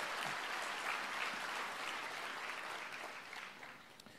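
A congregation at an online church service breaks into applause, a dense sustained clatter of many hands that slowly fades over a few seconds.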